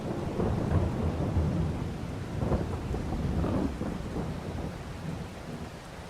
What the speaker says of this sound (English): Harvesting in the rain.